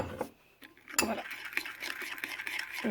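Spoon clinking and scraping around a bowl while salad dressing with spices is stirred, a close, irregular run of light metallic taps and swishes.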